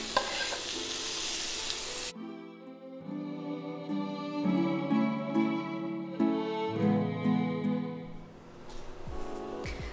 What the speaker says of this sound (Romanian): am pus și vinuțul peste ceapă, fierbe aici